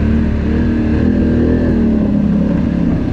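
A racing Polaris RZR side-by-side with a relocated radiator roars close by in a loud, steady engine drone whose pitch sags slightly as it passes, with no one talking.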